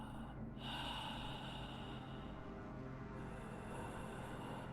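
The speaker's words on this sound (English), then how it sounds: "I'm going to give you a little ambience of sounds of your breathing" Steady breathing heard from inside a space suit, a slow, close, muffled rhythm over constant low hiss and hum that sets the ambience for a sci-fi tabletop roleplaying game.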